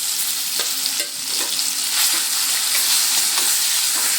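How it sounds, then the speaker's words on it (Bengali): Mashed spinach fries in mustard oil with nigella seeds and dried chili, giving a loud, steady sizzle up close, with occasional soft scrapes as it is stirred and no talking. "আবারও আমি 2 থেকে 3 মিনিট এই পালং ভর্তাটা কালো জিরে, শুকনো লঙ্কা, সর্ষের তেলে নেড়ে চেড়ে ভেজে নেব।"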